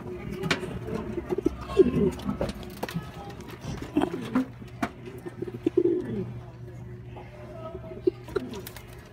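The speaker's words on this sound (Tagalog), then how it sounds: "Ayun, oh, daming kalapati, oh." Racing pigeons at a loft, soft low cooing and wing flutters repeating close by over a steady low hum, fairly quiet.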